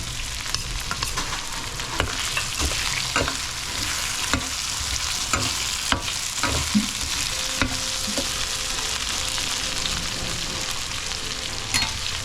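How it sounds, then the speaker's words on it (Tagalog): Bell peppers sizzle steadily in hot oil, a dense crackling hiss, with occasional clicks and scrapes of stirring throughout. "Prito na rin natin yan. Yung bell pepper."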